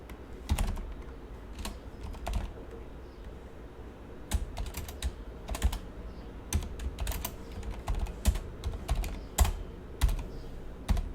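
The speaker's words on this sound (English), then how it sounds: "And I'm just similarly typing it out." Quiet, close typing on a computer keyboard: irregular runs of light key clicks with occasional sharper taps and short pauses, no voices.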